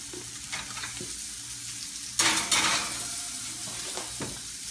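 Salmon and vegetables cook in a hot pan on a stovetop burner, giving a steady, close sizzle broken by a few sharp clatters of utensils against the pan.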